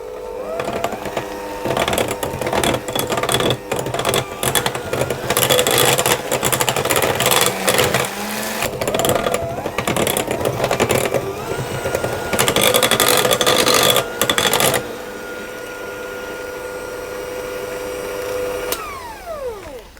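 Cake batter with vanilla extract whirs in an electric mixer, a loud, close, steady mechanical drone that shifts as the beaters move and then drops to a softer hum before stopping.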